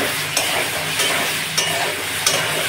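Kochur loti (taro stolons), boiled and oil-fried, is stirred with mustard paste in a pan: a loud steady sizzle broken by four regular scraping strokes of the spatula, close by.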